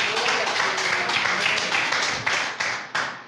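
A church congregation claps together in dense, steady applause that thins toward the end into a few last distinct claps.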